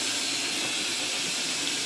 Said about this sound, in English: And then turn the cold water on.